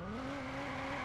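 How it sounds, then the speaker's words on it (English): An engine note holds steady and loud for a moment as a car drives in the Watch Dogs video game, a continuous tonal hum with no voices. "I've got a car to ram through the doors"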